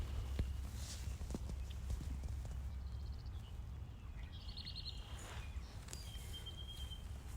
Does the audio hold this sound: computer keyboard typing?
no